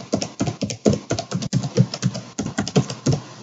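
Rapid keystrokes on a computer keyboard as a user ID and password are entered, a close, steady patter of clicks in uneven bursts with brief pauses, no voices.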